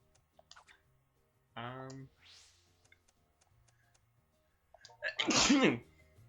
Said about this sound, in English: that was quite a sneeze.